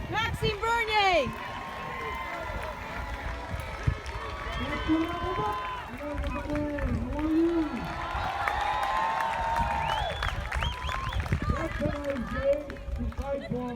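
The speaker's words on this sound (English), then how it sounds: "Listen to the crowd!" A political rally crowd in Oakville welcoming Maxime Bernier fills the air with steady cheering, shouting and chanting voices, loud and continuous with some applause mixed in.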